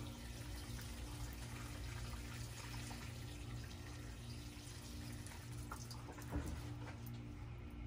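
Water runs steadily onto newly planted porch flowers until the soil is soaked, giving a continuous soft splashing hiss at an even level for several seconds, with a small burst near the end.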